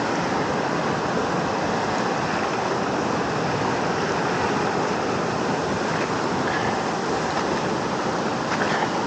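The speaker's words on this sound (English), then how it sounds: "Here come the waves." Water surges and washes over hikers' feet during a stream or river crossing on the Foothills Trail, a loud continuous rushing broadband wash filling the whole stretch without voices.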